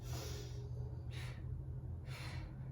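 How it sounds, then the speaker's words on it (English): Two short breaths drawn in during a lower-back strength exercise in a workout class, soft and close over a steady low hum. "Make sure you inhale here."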